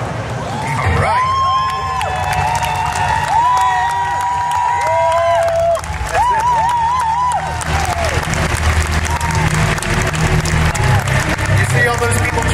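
Crowd at a cosplay contest on a convention stage applauds and cheers steadily throughout, with whoops and shouts rising over the clapping and an announcer's amplified voice and music-like tones cutting in over the noise.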